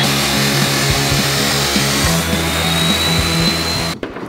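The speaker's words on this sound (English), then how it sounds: "So I'm using my trusty abrasive saw to cut some 45 degree ends on these tubes." An abrasive chop saw cuts 45-degree ends on square steel tubing of 11 and 14 gauge wall, a loud continuous whining grind with rising and falling motor tones, then spins down abruptly near the end.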